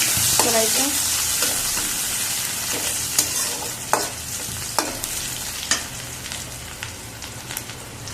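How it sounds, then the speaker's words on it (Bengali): Onions frying in hot oil for crispy fried onions give a loud, steady sizzle, punctuated by a series of close spatula scrapes and stirs at irregular intervals, with no talking. "এখানে আমি যে পেঁয়াজের বেরেস্তা করবো এই জন্য পেঁয়াজ দিয়ে দিলাম"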